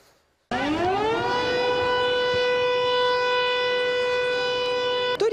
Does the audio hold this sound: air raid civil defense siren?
yes